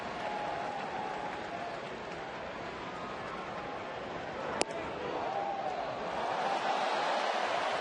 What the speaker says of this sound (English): Crowd oohs and ahs.